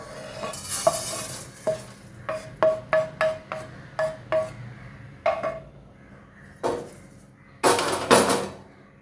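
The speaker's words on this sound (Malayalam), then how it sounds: "നമുക്കിനിത് വേറൊരു പാത്രത്തിലോട്ട് മാറ്റി കൊടുക്കാം." Cooked oats being scraped and stirred out of a hot pan into another vessel, heard as a steady run of close, rhythmic spoon scrapes against metal over a faint sizzle, ending with a couple of louder clatters.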